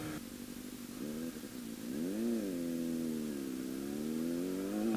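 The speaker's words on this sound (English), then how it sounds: "I just have a massive exhaust leak." A car engine with a massive exhaust leak runs steadily with a rough, droning exhaust note, rising slightly in pitch as it revs, then holding a loud low rumble.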